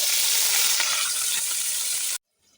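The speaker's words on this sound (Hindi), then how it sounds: "प्याज शामिल कर देना है गर्म ऑयल में" Chopped onions hitting hot oil for chicken korma, a loud steady sizzle close up that runs for about two seconds and then cuts off abruptly into near silence.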